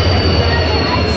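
A train pulls into a platform at Veraval Junction in Gujarat, India, with a loud, steady rail rumble and a high, sustained squeal of wheels on track, close by and continuous.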